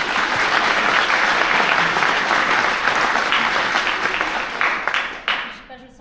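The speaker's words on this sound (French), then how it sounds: "En général, ils applaudissent." Sustained audience applause at a school theatre-option show, loud and dense throughout and thinning into scattered claps near the end, with a voice heard in the crowd.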